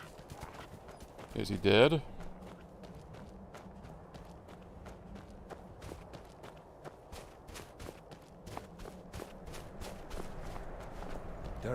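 Steady clip-clopping horse hooves in The Elder Scrolls V: Skyrim, a quick brisk rhythm running throughout, with a short burst of speech near the start.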